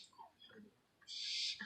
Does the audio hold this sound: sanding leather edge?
no